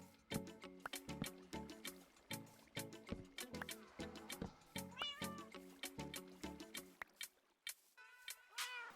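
Several Minecraft cats meow repeatedly inside a creeper farm, their short, close meows overlapping in a busy stream with small clicks between them.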